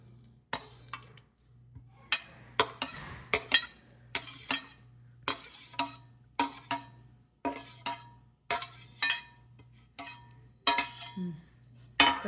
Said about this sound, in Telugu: ముందు మామిడికాయ ముక్కలు వేసేసి కలపండి.